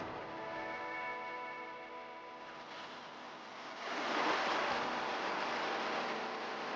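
Waves wash against a small islet in the game Disco Elysium, a steady surf hiss that swells into a louder rush partway through.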